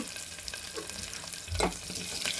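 Curry leaves and spices fry in hot oil for a village-style pappu charu while being stirred, a steady close sizzle with soft scraping strokes and a brief louder burst partway through.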